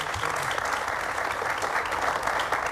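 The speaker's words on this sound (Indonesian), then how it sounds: "Boleh tepuk tangan." Studio audience at an Indonesian TV talk show applauding, a dense sustained wash of clapping from many hands, fairly loud and even, with faint voices beneath.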